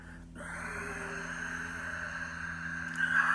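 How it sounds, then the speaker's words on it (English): A soft, steady Ujjayi yogic breath is exhaled through the nose with the throat constricted, giving a faint, close, whistling hiss that swells slightly near the end. "Soft, silky, whistling Ujjayi breath, victorious breath in Sanskrit."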